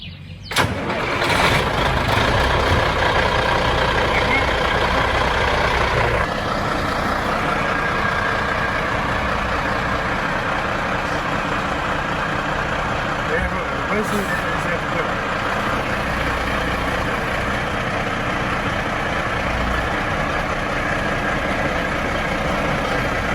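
A Kenworth W900L truck engine cranks and fires, then settles into a loud, steady idle that runs on close by, with people talking over it.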